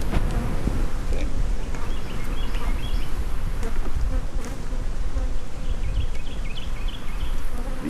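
Irritated honeybees swarm around an open spring hive being split, their loud, close buzzing continuous and thick, with small higher whines drifting over the constant drone.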